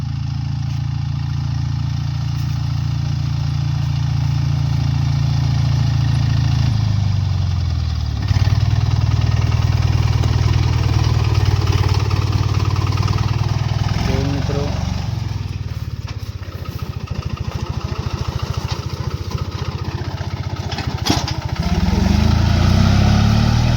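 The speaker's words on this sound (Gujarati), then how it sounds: "જોઈ લો મિત્રો ટ્રેક્ટર આવી ગયું છે" A small tractor engine idles with a steady, close chugging rumble that briefly shifts pitch and dips before settling again.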